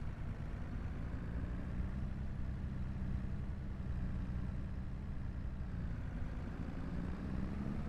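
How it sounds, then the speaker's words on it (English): A tractor engine in Farming Simulator 25 runs at a steady low drone, quiet and continuous throughout with no speech over it. "Tractor engine sounds good."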